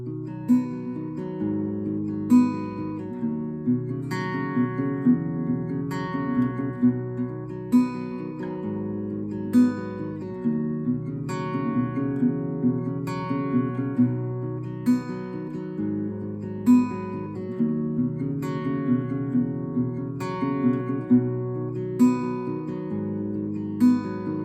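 Close, clear acoustic guitar plays both parts of the chorus of Ed Sheeran's Camera (live version), regular strummed and picked chords with rhythmic accents throughout, no singing or talking.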